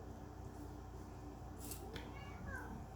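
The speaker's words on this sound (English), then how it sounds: "Yep, see, he meowed." A pet cat gives a short meow indoors, faint and partly buried under steady background hum, with a brief rising cry near the end.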